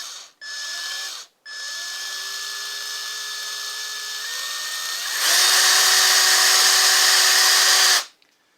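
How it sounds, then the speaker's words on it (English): A power drill whines steadily while widening screw holes in a guitar pickguard, with a couple of short stops, then revs higher and louder before cutting off. "I need to just touch that with my drill to open them up"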